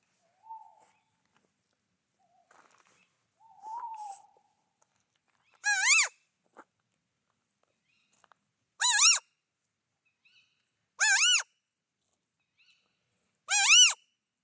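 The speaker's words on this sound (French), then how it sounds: "le hibou qui arrête pas de..." An owl gives four loud, shrill, rising calls spaced a few seconds apart against near silence, after a couple of fainter earlier sounds.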